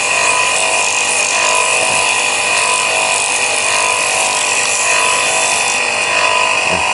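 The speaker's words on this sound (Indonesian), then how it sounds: "kita ada amplas, kita gerakan di sini, kita naik turunkan amplasnya yang halus teman" Fine sandpaper rubbing up and down on a rotated water pump shaft during repair, a loud, steady hissing abrasion that continues without a break.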